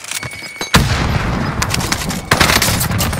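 Automatic gunfire in the Call of Duty Warzone video game on the Fortune's Keep map, with loud rapid bursts and sharp reports repeating throughout, growing heavier near the end.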